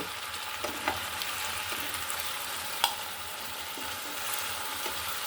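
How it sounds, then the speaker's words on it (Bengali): Fish sautéed with spices in a pan for a Bengali fish and radish bhuna gives a steady, fairly quiet sizzle, with a few faint clinks and scrapes of stirring and no voices. "মাছটা কষানো আমার হয়ে গেছে এখন আমি এটা উঠিয়ে ফেলব"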